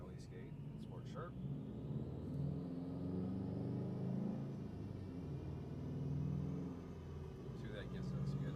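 2019 Subaru STI with a Stage 2 tune and the wastegate set to 45% in sport sharp mode, a low sustained engine rumble that swells and eases over several seconds, heard from inside the car.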